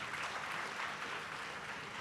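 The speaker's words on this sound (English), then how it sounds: "Let's give him another round of applause, please." Audience at a TVET college launch event in Mpumalanga gives a speaker another round of applause, soft, distant clapping that stays steady throughout.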